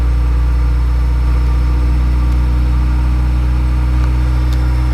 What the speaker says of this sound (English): You see how it idles at around 1500.